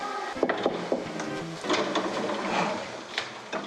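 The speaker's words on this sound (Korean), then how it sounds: "일단 노크를 하고 들어가도록 할게요" A few sharp knocks land on a classroom door, scattered between rustling and handling noises, close and moderately loud.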